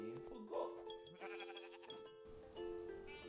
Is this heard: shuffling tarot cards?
no